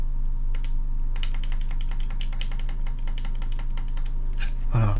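Computer keyboard keys clatter in quick irregular bursts during a PC game, close and fairly loud over a steady low hum, with a louder rattle near the end.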